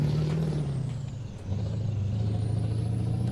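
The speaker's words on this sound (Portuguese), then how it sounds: "Então vai que vai, ó, o roncão do caminhão." Steady low truck-engine rumble from Euro Truck Simulator 2, a heavy truck hauling cement. It drones on continuously and loudly with a brief dip in pitch partway through, no voices.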